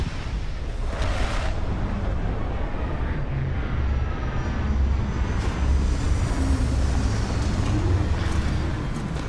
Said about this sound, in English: Starting landing procedure.